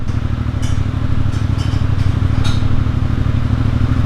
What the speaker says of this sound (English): It's a motorcycle outside and they just started up.